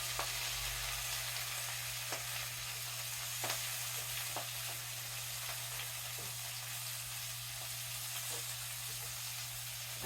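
Garlic cooks in a skillet with a steady, faint sizzle and hiss, dotted with occasional small pops, over a constant low electrical hum and no voices.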